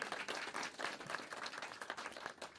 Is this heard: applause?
yes